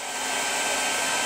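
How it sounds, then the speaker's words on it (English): A household blow dryer blowing into a GE refrigerator water dispenser, a loud steady whooshing hiss that runs unbroken and alone. "I went and got my wife's blow dryer, and I stuck it in to this little place right here"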